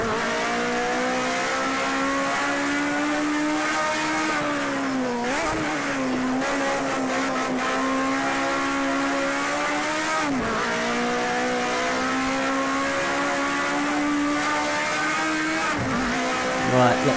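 Race car engine in the Project CARS 2 driving game, a loud sustained drone that rises in pitch, with sharp dips at each gear shift and one fumbled change, plus brief tire noise.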